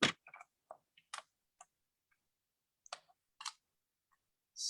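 A paper trimmer slices through patterned designer paper for a handmade card, giving a few sharp close clicks and a quick scraping cut among quiet gaps.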